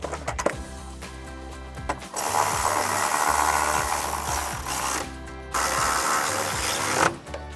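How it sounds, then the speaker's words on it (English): Ratchet and 13mm socket tightening two bolts that hold a RedRock TC1 running board bracket to a 2022-2025 Toyota Tundra, with quick repeated clicking strokes up close in bursts separated by short pauses. "we'll go ahead and grab our ratchet and 13mm socket and tighten those 2 down."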